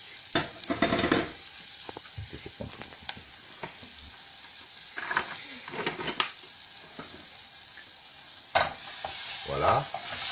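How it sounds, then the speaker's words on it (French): Onions and thyme sauté in butter in a pan over lowered heat, a soft continuous sizzle broken by intermittent scraping stirs of a utensil against the pan. "on fait revenir tranquillement, voilà, en mélangeant pour éviter que le beurre colore vraiment trop"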